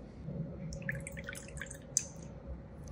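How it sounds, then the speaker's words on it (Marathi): Hot jaggery mixture for a fruit cake being strained, with faint scattered drips and light trickling over a low background hum. "तर गुळाचं मिश्रण हलकंसं थंड झालं, गरम आहेच. आता हे गाळून घ्यायचं."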